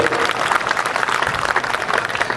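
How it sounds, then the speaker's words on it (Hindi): Audience at a Hindi humorous poetry gathering (kavi sammelan) in Sirsaganj claps together in support, a steady dense wash of applause filling the whole stretch without pause. "एक बार ताली बजा के समर्थन करिए"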